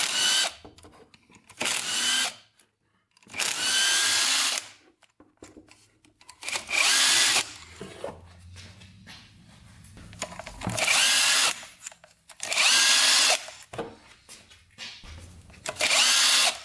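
A power tool spins out the 10 mm clutch cover bolts on a Honda 400EX ATV in loud, close whirring bursts of a second or two, separated by short quiet gaps.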